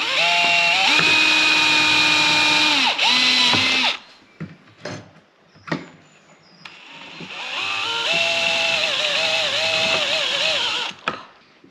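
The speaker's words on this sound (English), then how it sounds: "I'm going to just drill some holes in the back of the angle" A power drill whirs in two long bursts, drilling holes in a metal angle, winding down between them, with a few knocks and clatters in the pause.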